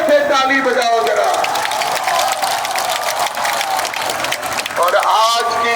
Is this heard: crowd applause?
yes